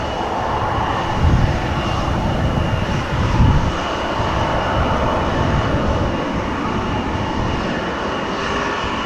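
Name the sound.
KLM Embraer 175 jet on runway taking off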